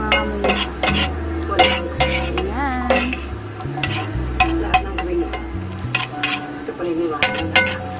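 Garlic and onion sizzle in a pan while a utensil stirs them, with steady frying hiss, repeated metallic scrapes and clinks of cookware, and music playing underneath.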